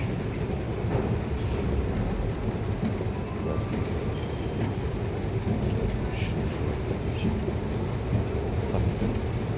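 A deep, continuous roar of an Izmir metro train running through a tunnel, steady and enveloping, with faint voices underneath.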